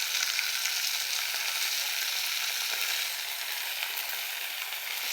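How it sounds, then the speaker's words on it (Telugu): Mint and coriander leaves fry in oil for a pachadi, making a continuous bright, hissing sizzle up close that eases slightly toward the end, with no voices. "మంచిగా నూనెలో గోలించుకోవాలండి."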